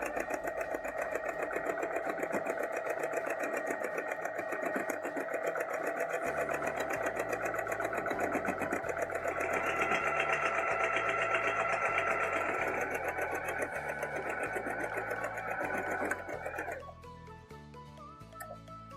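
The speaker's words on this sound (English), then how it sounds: "Then stitch the 2 pieces together, leaving 5/8 of an inch of seam allowance." A domestic sewing machine stitches dress fabric pieces together in one long steady run, a close whirring mechanical buzz that stops near the end, leaving a faint soft tapping.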